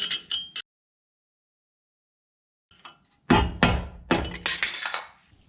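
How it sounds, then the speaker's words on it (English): A small screwdriver tapping around the front wheel hub seal of a 2008 Mustang GT500. A few light metallic taps come first, then a pause, then a cluster of sharper clinks and knocks close by. "I'm going to use the little screwdriver and just carefully tap around it"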